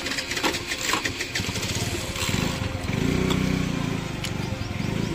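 Vehicle engine in the video game BGMI, a steady buzzing motor that rises slightly as it shifts out of gear into neutral, droning continuously throughout.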